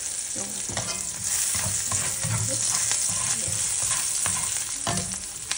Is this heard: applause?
no